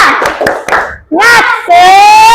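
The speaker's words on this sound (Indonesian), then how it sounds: "Tepuk semangat." Schoolchildren in a classroom do an ice-breaking clapping routine: a few quick, sharp claps up close, followed by children's voices chanting loudly together.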